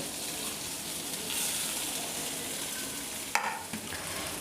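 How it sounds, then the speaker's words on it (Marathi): Coriander vadi shallow frying in a little oil in an iron kadhai, giving a steady hiss of sizzling, with one sharp clack and a brief scrape near the end. "5-6 वडी अशा फ्राय करून घेणार आहे."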